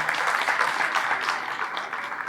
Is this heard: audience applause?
yes